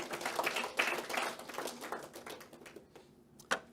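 A church congregation gives scattered applause for a deaconess, a brief, fairly quiet patter of clapping that thins out and fades, ending with a single louder clap.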